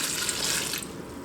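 Tap water rushes into a cooking pot for rhubarb juice, a bright, close splashing stream that softens as the flow eases near the end.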